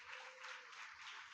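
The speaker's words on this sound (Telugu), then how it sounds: "చప్పట్లు కొట్టండి" Hands clapping from a Sunday worship congregation, a soft, steady patter of applause that stays fairly even throughout, quiet and somewhat distant.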